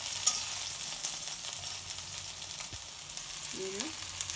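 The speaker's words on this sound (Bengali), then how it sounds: "পেঁয়াজটি ভাজা হয়ে গেছে।" Chopped onion and green chili fry in a wok with a steady, soft sizzle and occasional stirring scrapes, close by and fairly quiet with no talking.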